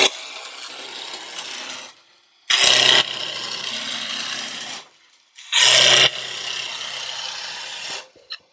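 A roughing gouge cuts a small wooden baseball bat spinning on a lathe, giving three close, rasping scraping passes separated by short pauses, with louder bites where the tool first meets the high points.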